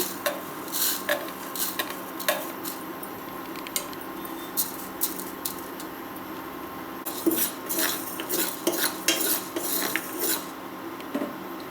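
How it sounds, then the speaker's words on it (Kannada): Urad dal dry-roasting in a pan for a fresh ginger gojju spice mix, stirred with a utensil that scrapes and clicks against the metal in uneven bursts, close and fairly quiet, with no talking. "ಮೊದಲು ಉದ್ದಿನಬೇಳೆನ ಹುರ್ಕೊಳ್ಳೋಣ."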